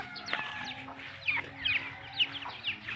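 A Dong Tao chicken clucks in a small yard, giving several short, close clucks and squawks in an irregular run, with no talk.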